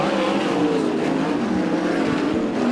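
Sprint cars roar around the dirt oval at Arizona Speedway during ASCS heat races, a loud, continuous engine drone that stays steady and close throughout.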